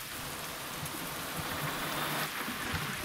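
Steady rain falls in American Truck Simulator, a dense, even hiss of drops on the truck with a low rumble underneath, continuous and fairly loud throughout with no voices.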